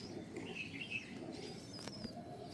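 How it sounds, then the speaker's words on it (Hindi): A dub pigeon coos faintly in a quiet indoor loft, soft low calls with a few light chirps and a brief flutter in the background. "ये जी माशाल्लाह डब वाला कबूतर है।"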